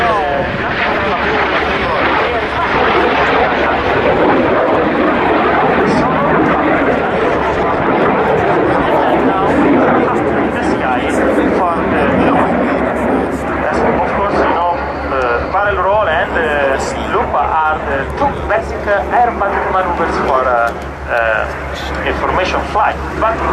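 Italian Air Force Frecce Tricolori jets flying an aerobatic display at RIAT 2011, a loud continuous broad jet roar filling the clip while a commentator talks over it.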